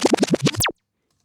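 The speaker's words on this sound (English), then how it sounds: "which is this backspin" Backspin effect in a modern electronic track: a few rapid, stuttering bass-heavy chopped hits, then a quick sweeping rewind swoop that cuts abruptly to silence.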